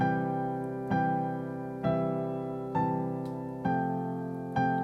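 A piano plays a slow melody of five evenly spaced notes starting on G, each struck clearly and left to ring into the next.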